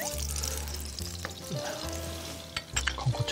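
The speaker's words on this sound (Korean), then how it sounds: "건고추를 좀 태우겠습니다." Dried chili peppers frying in oil in a wok for a Chinese-style stir-fried pork dish: a close sizzle runs under a low steady hum, with a few clinks and scrapes of a utensil near the end.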